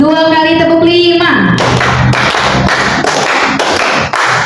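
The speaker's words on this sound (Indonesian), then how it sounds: "Tepuk tangan untuk kita semua" Rhythmic hand clapping by a group of participants at a teacher training session, following a sung or chanted tone, with sharp repeated claps in a counted pattern, loud and close.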